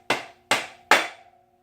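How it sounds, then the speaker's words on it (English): Three evenly spaced blows from a Trusty Cook hammer strike metal, each a sharp ringing clang that decays with a lingering metallic tone. "Got the old Trusty and Cook hammer"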